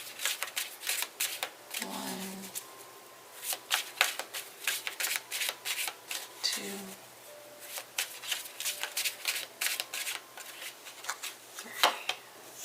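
Tarot cards being shuffled by hand in repeated crisp riffling bursts, with a voice briefly counting between shuffles.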